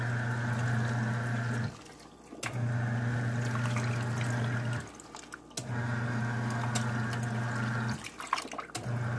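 Haier XQBM22-C compact portable washer running its wash and rinse cycle, with a steady loud churning water hum that stops and restarts in repeated bursts a few seconds apart, close by.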